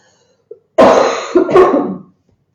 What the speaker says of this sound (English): I can't just keep coughing like this on live